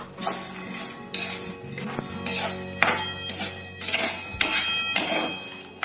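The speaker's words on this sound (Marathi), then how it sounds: "कमी गॅसवर आता आपण असे हलवून भाजून घेऊ छान।" Peanuts are stirred and roasted in hot salt in a pan over a low flame, giving close, repeated bursts of gritty rattling and scraping that rise and fall with each stir, with no talking.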